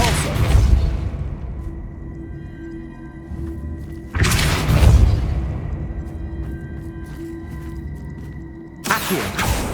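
Depulso force spell casts in the game Hogwarts Legacy, two deep booming blasts that decay slowly with a low hum between them and a third blast starting at the end, close and loud.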